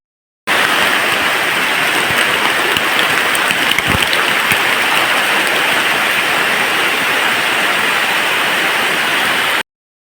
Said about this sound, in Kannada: ಜೋರು ಮಳೆ ಬರ್ತುಂಟು